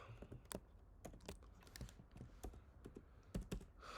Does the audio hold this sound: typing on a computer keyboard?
yes